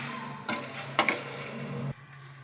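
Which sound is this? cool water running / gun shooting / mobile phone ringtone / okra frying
okra frying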